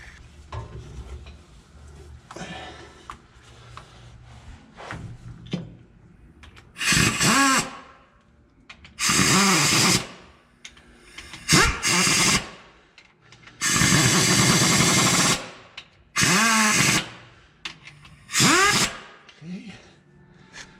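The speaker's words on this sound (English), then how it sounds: "I'm just going to snug it up with the impact" An impact wrench snugs bolts on an Allison 3000 transmission cover, turned way down: about six short, loud buzzing bursts of varying length, separated by pauses, after a quieter stretch of workshop sounds.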